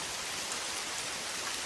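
Heavy rain falls on a farm vegetable field as a constant, even hiss of dense raindrops with no let-up and no other sounds.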